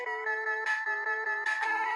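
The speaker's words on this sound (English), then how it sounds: "it seriously sounds like a phone's ringing" Mega Man video game sound effect resembling a ringing phone: a steady electronic tone warbling between two pitches, with two brighter bursts, loud and alone for two seconds.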